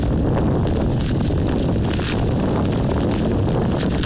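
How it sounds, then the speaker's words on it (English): Steady, blustery Scottish wind roars across the microphone, a dense broadband rush that holds for the whole stretch without easing. "Hear the wind?"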